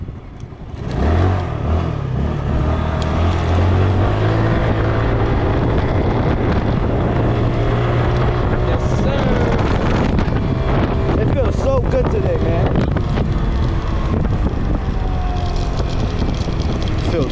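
Moped ride at night, with loud steady wind buffeting the microphone and a droning engine throughout; a voice speaks briefly near the start.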